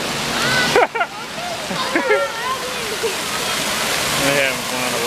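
A waterfall at an Arkansas hotel pours in a constant rushing splash, with people talking and calling out over it nearby, and a few brief sharper splashes rise above the steady roar.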